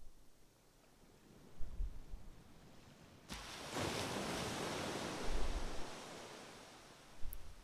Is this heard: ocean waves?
yes